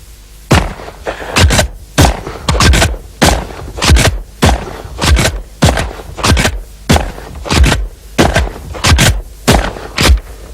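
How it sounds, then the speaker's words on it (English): Benelli shotgun blasts at a clay target and at its own ejected empty cartridges, about fifteen sharp, loud, close shots fired in a quick steady rhythm with brief gaps, no talking. "with the Benelli you can make new targets by shooting the empty cartridges as they come out of the Benelli"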